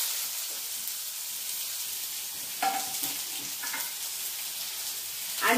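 Onion drops into hot oil already crackling with cumin and mustard seeds, giving a steady hissing sizzle with a few louder bursts and stirring clatter near the end.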